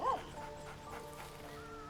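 A dog in Baldur's Gate 3 lets out a single short bark or yip right at the start, followed by quiet background game music.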